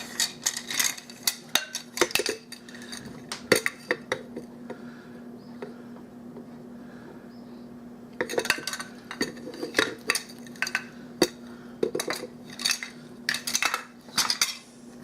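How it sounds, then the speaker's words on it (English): Biscuit batter for homemade cinnamon pecan biscuits stirred in a bowl, a spoon clinking and scraping against the sides in irregular bursts, with a quiet pause midway and a steady hum underneath. "Let's get this stirred in here."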